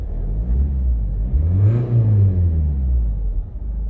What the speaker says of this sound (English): Revs up and ticks over nicely.